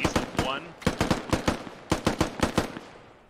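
Gunfire in the military shooter game Squad rings out as a rapid string of sharp, loud shots in uneven clusters, fading slightly toward the end, with a brief faint voice early on.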